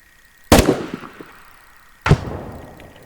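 Two grenade-launcher shots in the shooter game Operation Harsh Doorstop, each a sharp loud blast followed by a decaying rumble, spaced about a second and a half apart with no talk.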